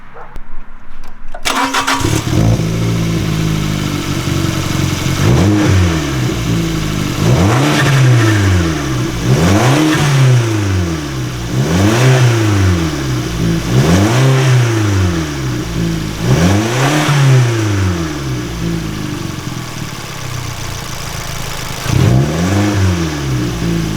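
A Fiat Abarth's engine cranks and catches, then revs in a series of about eight rising and falling throttle blips over a steady idle, loud and close with no talking.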